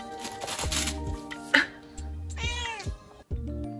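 A cat meows several times in a room during Christmas gift wrapping and opening, with rustling and handling noises around the calls.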